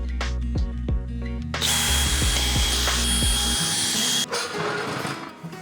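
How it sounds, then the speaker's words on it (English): A power drill with a long bit whirs up and bores a hole about 6 inches deep, grinding loudly through wood with a ratcheting start, then cuts off near the end. "I need to drill a hole roughly 6 inches deep"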